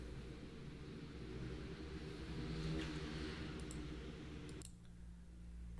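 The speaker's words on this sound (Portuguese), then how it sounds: "Barulho de moto." A motorcycle passes outside, its steady engine drone carrying loudly through the room for several seconds before cutting off abruptly near the end.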